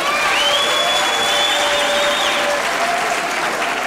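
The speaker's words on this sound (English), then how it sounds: "let's give them a big round of applause" Steady applause from a large audience at a university graduation ceremony, loud and sustained throughout with a faint whistle or cheer riding over the clapping.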